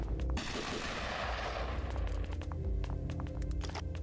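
Gunfire rattles in the Flash game Last Stand Union City, a dense burst of rapid shots at the start followed by sharper individual reports and clicks, loud and close.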